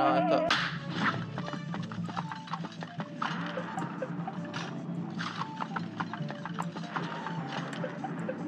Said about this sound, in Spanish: Dale, caballo.